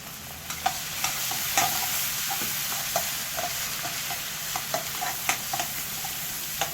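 Onions frying in a pan of oil after a cumin (jeera) tempering for paneer tikka masala, a steady close sizzle broken by repeated stirring scrapes and clicks, with no talking.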